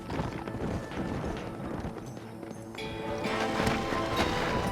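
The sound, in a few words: horses galloping, from video game Red Dead Redemption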